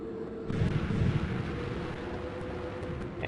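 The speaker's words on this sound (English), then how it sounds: "And then explosions in the distance." Distant explosions in the video game Final Fantasy IX, a dull rumbling boom that swells after a brief start and then settles into a low, steady roar, muffled and far off with no voices over it.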